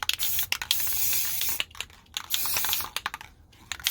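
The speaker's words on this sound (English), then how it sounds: "then I'm going to spray paint it" Bursts of pressurized spray hissing from an aerosol can of gold spray paint onto a frame, several short blasts and longer sustained sprays close by, with brief pauses between them.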